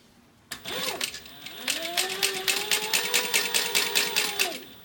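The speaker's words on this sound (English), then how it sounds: "So now we're going to stitch where the next card slot is," A sewing machine stitching a card slot on a purse, starting with a short whir and then running in a steady, rapid mechanical rhythm with a rising and falling motor whine, close and clear.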